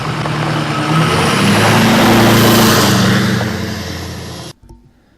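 A vehicle drives past on a washboarded gravel driveway, a loud broadband engine and tyre rumble that swells to a peak midway, fades slightly, then cuts off abruptly near the end.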